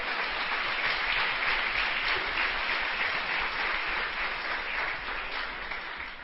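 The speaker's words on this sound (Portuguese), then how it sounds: "Você pode aplaudir o nome do Senhor?" A church congregation applauds during a sermon, sustained even clapping from a large crowd that fills the room at moderate volume and tapers slightly near the end, with no speech over it.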